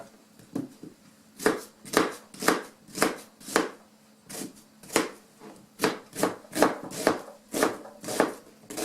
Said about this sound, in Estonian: Kõigepealt ma siis tükeldan nagu sibula, hakin ära.